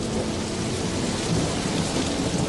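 Steady heavy rain pours down in a dense, continuous hiss, with a low rumble underneath.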